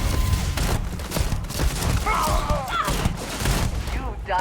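Gunfire in the sci-fi video game Starfield comes in rapid bursts and thuds under a layer of game noise, with voices calling out between the shots.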